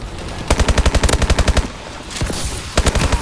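Rapid automatic gunfire from the Call of Duty Advanced Warfare video game, loud regular bursts of shots in two long volleys, a pause with other game noise, then another short burst.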